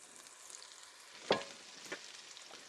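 Onions added to a pan of browning garlic for sauteed beef liver and onions, producing a faint, low sizzle with a sudden louder crackle and a second smaller one as they go in.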